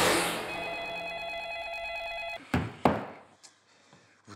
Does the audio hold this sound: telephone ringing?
yes